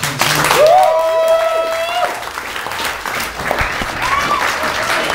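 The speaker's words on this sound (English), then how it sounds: "Round of applause for these fellas, everybody" An audience claps and cheers after a poetry performance, with a whooping voice rising over the applause and crowd noise continuing throughout.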